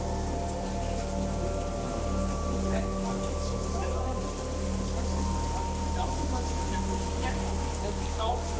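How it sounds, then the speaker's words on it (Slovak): Steady rain patters and hisses in the Höllental gorge below the Zugspitze in Bavaria, a constant wash of drops on surfaces that runs throughout, with faint voices at times. "Zase prší."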